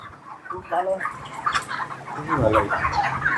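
Several chickens cluck and chatter close by on a poultry farm in a busy, continuous jumble, with a brief sharper call rising out of the flock.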